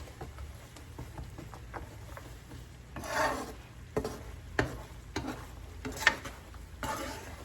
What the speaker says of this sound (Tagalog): Haluin natin para pantay ang pagkakaluto ng peanut.